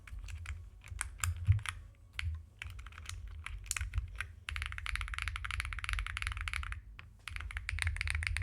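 A GDK Labs NV-70 mechanical keyboard is typed on at close range, giving scattered clicky keystrokes first and then a dense, fast burst of clacking. After a short pause the typing resumes, with no voices.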